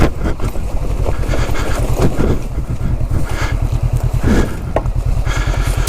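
A Honda CB500X Rally Raid motorcycle ridden under trees, its engine giving a steady loud pulsing drone with wind rush over the microphone, close and continuous throughout.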